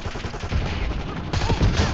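Rapid gunfire rattles through the video game Warzone in a dense, continuous burst of shots, loud and close, with the game's ambient noise running underneath.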